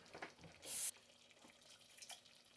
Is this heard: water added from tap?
yes